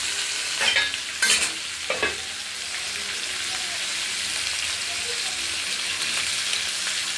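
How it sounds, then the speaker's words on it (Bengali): A fish head fries in a pan of hot oil for a bottle-gourd-leaf curry, giving a steady, close sizzle. A few sharp utensil clanks and stirring scrapes come near the start, then the even crackle continues alone. "মুড়োটা ভেজে নিই।"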